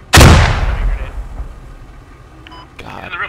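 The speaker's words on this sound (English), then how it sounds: "You just threw a grenade!" A grenade blows up in the tactical shooter Squad with a loud, close, sharp blast that dies away into a rumbling tail. A voice is heard shortly after.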